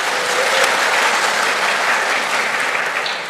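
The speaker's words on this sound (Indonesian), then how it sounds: "Kita tepuk tangan dulu, tidak apa-apa." A church congregation applauding during a men's fellowship celebration, with dense, loud clapping from many people that stays steady for a few seconds and tapers slightly at the end.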